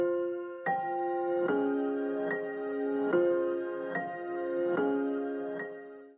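Relatively high piano preset playing the first melody of a dark trap beat, single struck chords repeating at a steady, unhurried pulse, each ringing and decaying, clean and alone at moderate volume.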